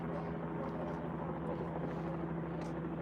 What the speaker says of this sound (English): You can hear that helicopter.